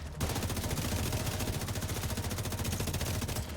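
A heavy machine gun fires a rapid, unbroken burst in the video game The Division 2, loud and close, its steady rattle lasting several seconds.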